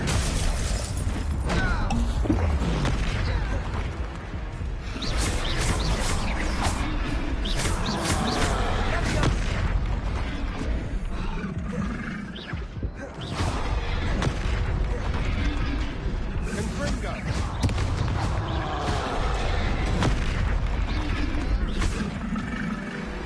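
Loud, dense magical explosions from Confringo fire spells during Hogwarts Legacy combat, repeated blasts and roaring bursts filling the whole stretch with barely a pause.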